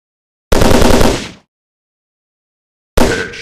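Gunfire from a dinosaur-hunting shooting video game: a loud sustained burst of shots lasting about a second, then silence, then a second burst starting near the end.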